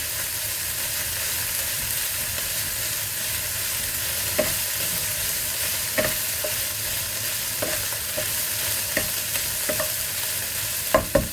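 Dim sum filling for ham sui gok, thickened with flour slurry, is stirred in a hot pan. A steady sizzle runs throughout, broken by scattered spatula taps and scrapes that grow sharper toward the end.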